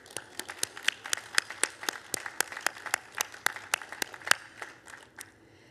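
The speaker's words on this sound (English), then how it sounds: "So let's applaud them." A commencement ceremony crowd applauds steadily, many hands clapping in a fast irregular patter that fades slightly toward the end.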